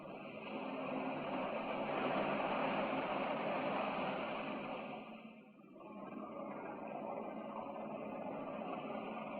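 Aircraft engines from a 1959 film drone steadily and loudly as a dense, unbroken roar, briefly dipping about halfway through before resuming at a slightly lower level.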